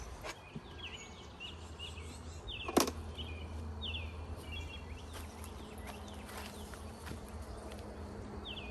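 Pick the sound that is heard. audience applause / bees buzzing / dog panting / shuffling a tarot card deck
bees buzzing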